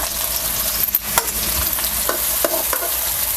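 Chopped onion sizzling in hot oil with cumin seeds in a pan for Kolhapuri misal, a steady close frying hiss broken by a few scraping stirs, with no voices.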